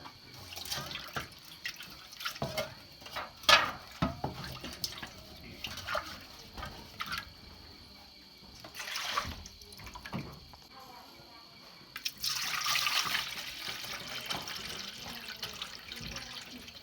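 Water runs and splashes into a cooking pot in bursts among knocks and clinks of kitchen handling, with a louder steady pour near the end.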